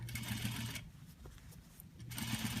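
Sewing machine understitching a neckline facing, running in quiet steady bursts with a pause in the middle, its needle ticking rhythmically close by.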